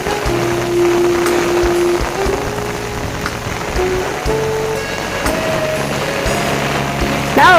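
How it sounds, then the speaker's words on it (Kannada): Heavy rain pours steadily and loudly onto a surface during a village downpour where children swim, a dense continuous wash that holds through the whole stretch with no voices over it. "ಈಗಲೂ ಮಳೆ ಜೋರಾಗಿ ಸುರಿಯುತ್ತಿತ್ತು"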